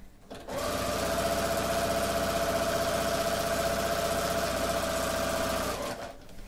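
A sewing machine stitches the binding onto a minky baby blanket, a steady close whir with a fast mechanical rhythm that runs continuously for about five seconds before stopping.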